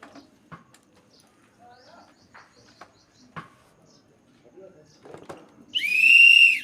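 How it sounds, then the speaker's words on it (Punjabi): After a few seconds of quiet, scattered talk and faint background noise, someone blows a whistle in one loud, shrill, sustained blast close by. "ਹੁਣ ਸੀਟੀ ਕੱਢਤੀ ਸੀਟੀ ਮਾਰੀ"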